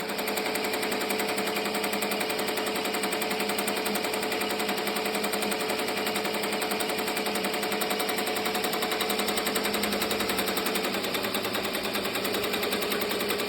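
A Ricoma MT1501 embroidery machine stitches a design onto a shirt, a fast, steady mechanical rattle running continuously at close range with no pauses and no voices.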